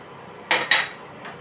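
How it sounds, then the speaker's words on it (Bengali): Two quick metallic clinks sound close by as prawns are tipped into a cooking pan for a prawn and drumstick curry, with a faint third tap after, against a quiet background and no talk. "এখন এই চিংড়ি মাছটা এখানে দিয়ে দিচ্ছি।"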